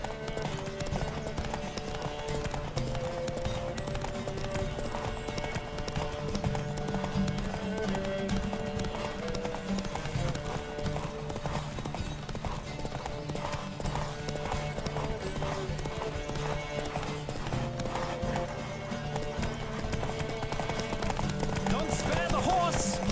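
Horse hooves gallop steadily through a race in The Witcher 3 at Vegelbud's Residence, a loud, continuous drumming beat over game music, with a brief whinny and voices calling out at moments.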